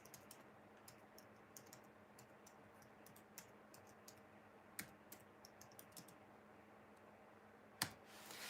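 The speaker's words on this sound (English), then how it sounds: "I'll type it." Light, quick clicks of typing on a computer keyboard, irregular and fairly close, with one louder keystroke near the end and no voices.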